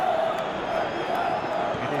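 A football stadium crowd in party mode during an Italy–Paraguay style international match, a steady dense roar of cheering and chanting, continuous and fairly loud throughout.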